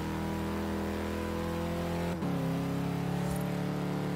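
A Toyota Hilux in Forza Horizon 3 holds a steady droning engine tone that steps slightly in pitch midway, loud and without talk.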